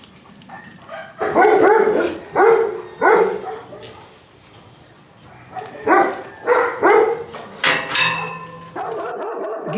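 Dogs barking close by in several loud bursts, a pair of barks early, then a longer cluster later, with yips and whimpering sounds between them.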